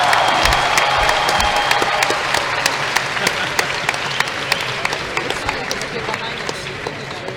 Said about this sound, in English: because of the incredible cheering